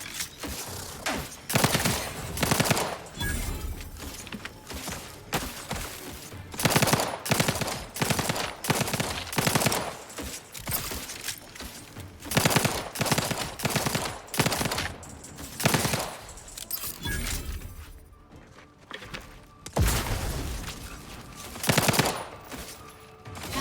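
Sustained bursts of automatic gunfire from The Outer Worlds 2 on Very Hard difficulty, loud repeated volleys with brief pauses between them, no talking.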